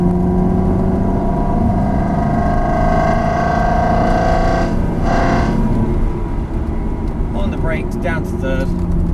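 A Ferrari engine hums steadily and rises in pitch as it accelerates on the Lydden Hill race circuit, with a voice talking over the engine noise.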